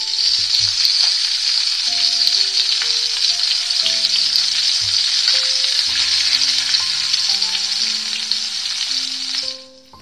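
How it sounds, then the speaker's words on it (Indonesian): Food frying in hot oil, giving a loud, dense, continuous sizzle that fills the whole stretch, with soft music tones underneath and a quick fade at the end. "mendengar suara gorengan di pagi hari saja sudah membuat kita lapar, bukan?"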